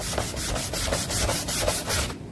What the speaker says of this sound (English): sandpaper block here.